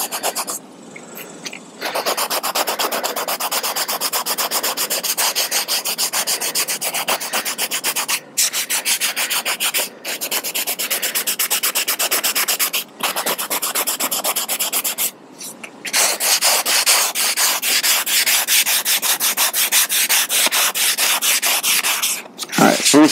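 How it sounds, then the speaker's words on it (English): Resin being sanded by hand on a Silver Surfer board prop, with long, continuous rasping strokes close up, broken by a few short pauses. "Alright, so we continue sanding and getting this ready for body fill"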